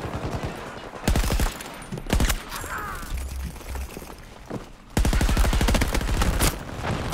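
Automatic gunfire in Battlefield 2042, heard in loud rapid-fire bursts: short volleys early on, then a long sustained burst near the end, with quieter battle noise in the gaps.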